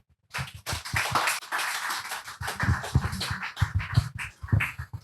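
An audience at a French talk on Édouard Glissant applauds the introduced speaker, close, uneven clapping that starts after a brief silence and carries on for several seconds.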